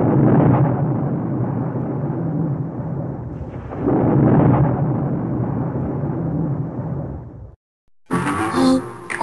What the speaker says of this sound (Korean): 갑자기 왜 천둥번개가 치는 거지?